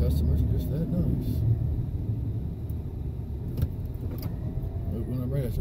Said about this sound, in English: Now she's going to move her vehicle and I'm ready.